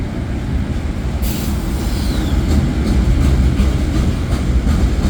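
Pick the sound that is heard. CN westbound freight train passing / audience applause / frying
CN westbound freight train passing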